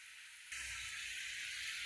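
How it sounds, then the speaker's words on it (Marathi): A soft, steady bubbling and hiss from an aubergine curry with crushed peanuts simmering in a pan on the stove, quiet and continuous, rising slightly after a brief pause. "बघा कसं उकळतंय."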